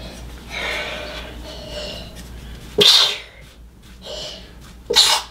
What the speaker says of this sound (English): That's called a sneeze.